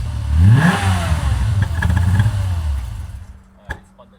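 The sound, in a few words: Golf VR6 engine starter cranking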